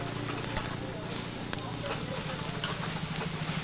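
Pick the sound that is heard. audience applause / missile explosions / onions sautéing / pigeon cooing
onions sautéing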